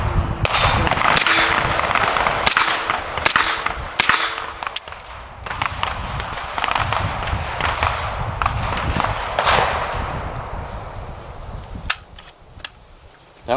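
B&T GHM9 Gen 2 pistol-caliber carbine firing through a magazine while suffering feeding trouble, sharp loud close shots in short irregular bursts and singles with pauses between, then a few scattered final shots.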